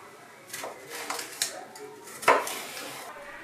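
Knife slicing vegetable quarters into strips on a board for a basic risotto, a handful of quick, crisp taps and scrapes in an uneven rhythm, close and fairly quiet.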